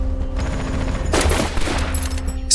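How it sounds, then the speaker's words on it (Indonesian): A machine gun fire sound effect plays: a loud, close burst of rapid shots in the middle of a sustained mechanical hum. "berhasil menemukan posisi penembak mesin Jerman yang langsung mereka habisi."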